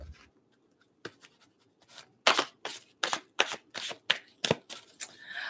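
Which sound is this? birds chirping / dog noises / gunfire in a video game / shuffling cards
shuffling cards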